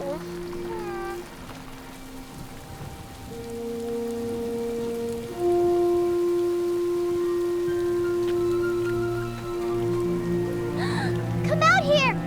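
Steady rain falls in a mountain setting during a thunderstorm, a constant wash of patter under melodic music, with voices speaking over it.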